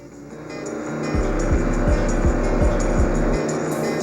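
De Tomaso Pantera cars lapping a handling course, a loud engine drone with a steady rhythmic pulsing as the car passes close by, alone without talk.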